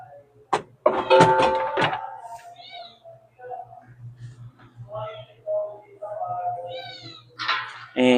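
Kittens meowing indoors, with several short, high meows spread across the clip. Other sounds break in near the start, and a low steady hum runs underneath.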